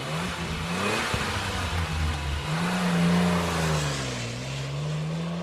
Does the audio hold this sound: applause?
no